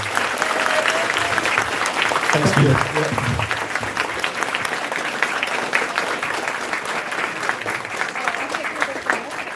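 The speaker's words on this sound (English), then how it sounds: "if we could get a huge round of applause for everyone, that would be lovely." Loud, dense applause from a convention audience at a closing ceremony, steady throughout, with a brief spoken thanks over the clapping.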